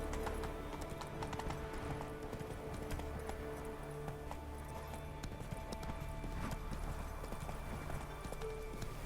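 Rhythmic clip-clop of a horse's hooves trotting in The Witcher 3 video game, steady and fairly close, with faint ambient game sound beneath and a brief whinny.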